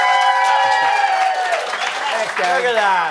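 A round of applause at an intimate pop-up song-and-conversation show, dense and steady clapping from the audience throughout, with a host's voice speaking briefly over it near the start.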